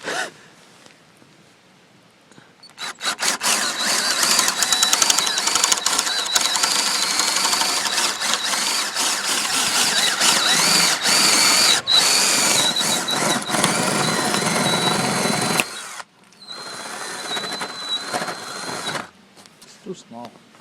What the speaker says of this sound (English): So right now we're drilling so that we can put the pole in.